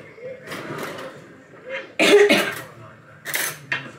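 A person with a sore throat coughs a few times, short harsh bursts close by, with some clinking of dishes at a dinner table between them.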